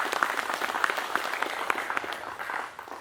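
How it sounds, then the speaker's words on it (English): Audience applause at a fire department press conference, a short burst of many hands clapping at moderate volume that tapers off over a few seconds. "So a big round of applause for that."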